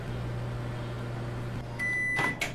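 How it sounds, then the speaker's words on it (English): A microwave oven in the Job Simulator video game hums steadily with its door closed, then a bright electronic tone sounds followed by a couple of short clicks. "Close the door and let me get a shot of the microwave running"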